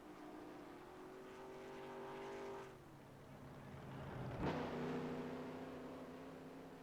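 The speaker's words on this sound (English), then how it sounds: "Apollo and Cameron both shut off their clutch in their engines as they come across the line" NASCAR race cars on the Anchorage Superspeedway in the NASCAR Racing 2003 video game, engines droning steadily, easing off, then a sharp swelling pass around the middle before the roar settles again.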